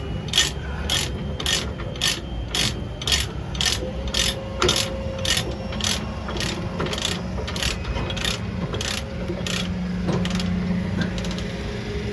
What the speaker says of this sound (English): just make the ratchet as long as possible. Yeah, and this as tight as possible.